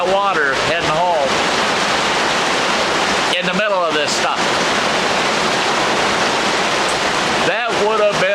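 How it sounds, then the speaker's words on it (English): Heavy rain and strong wind roar as a loud, unbroken wash at Black Lake, with someone talking over it in short bursts. "With these hard winds and this rain is terrible."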